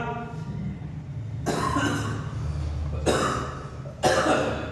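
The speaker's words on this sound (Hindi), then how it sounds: "बहुत कम खांसी हो गई है" Three bursts of coughing, each a sharp broadband burst with a trailing rasp, spaced a second or so apart, close to the microphone.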